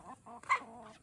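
Chickens cluck softly in a few short calls, faint and alone.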